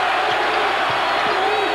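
A basketball arena crowd roars and cheers during a college tournament final, a dense, steady wash of voices with a few ball bounces, and a commentator talks over it.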